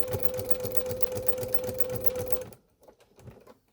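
Sewing machine quilting fabric for a wall display runs in a fast, even stitching rhythm with a steady motor hum for about two and a half seconds, close and clear, then stops, leaving faint handling noise.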